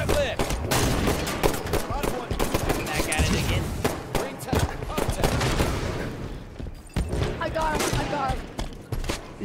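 Rapid bursts of gunfire crackle through a Halo 5 multiplayer match, dense and continuous, layered over excited player talk and game effects.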